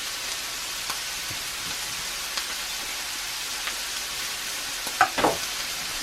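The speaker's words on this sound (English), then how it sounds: "my ground beef is frying up" Ground beef sizzles steadily in a hot cast iron pan, a constant crackling hiss with a few light scrapes and taps near the end.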